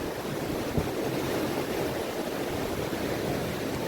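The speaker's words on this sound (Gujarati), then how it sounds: "દરિયાનો લોડ આવી તમે જુઓ ખાલી" Sea waves surge steadily onto a seashore below a coastal shrine, a continuous broadband roar that stays loud and even throughout with no pauses between breakers.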